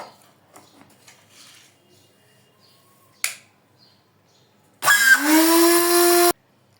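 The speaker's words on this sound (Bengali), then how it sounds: "ধনিয়া এবং জিরা ঠান্ডা হয়ে গেছে, এখন আমি ব্লেন্ড করে নেব।" A small kitchen blender grinding cumin seeds roars up in one loud burst of about a second and a half, rising in pitch. Quiet clicks and a sharp snap come before it.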